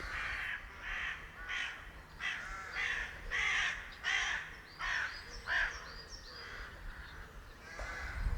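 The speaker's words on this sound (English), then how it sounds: "He's got 4 crows after him now. 4 crows trailing him." Crows caw repeatedly while chasing an osprey over Rutland Water, a series of harsh, moderately distant calls in irregular bursts of one or two, about a dozen caws over several seconds with no talk.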